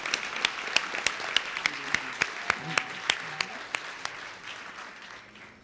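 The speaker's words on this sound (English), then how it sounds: "Give a nice round of applause." At a Women's History Month celebration at Brooklyn Borough Hall, an audience applauds the all-women percussion and vocal ensemble Grace Drums, with quiet, evenly spaced claps standing out over a soft, distant bed of crowd clapping.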